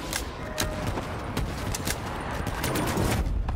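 Gunfire in the Call of Duty Black Ops III Zombies custom map Gilligan, rapid sharp shots cracking in an uneven rhythm over a steady background of game noise.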